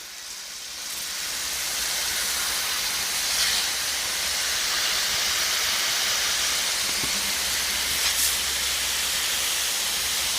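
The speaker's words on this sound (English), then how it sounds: "I'm going to take this off for right now and just let the irrigation system come on" A garden irrigation system on a fine mist setting sprays water in a steady, even hiss that starts after a brief quiet moment and holds for the rest, with no voices.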